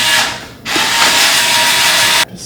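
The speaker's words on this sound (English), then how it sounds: "Screw that all the way in." Screw being driven all the way into a PC case, likely with a power driver, heard as a steady loud whirring buzz for nearly two seconds with a short pause before it and an abrupt stop near the end; no speech.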